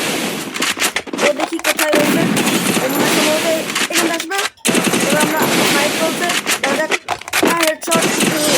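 Gunfire in the Free Fire mobile video game, loud rapid bursts of automatic shots broken by short pauses, heard over a player talking continuously.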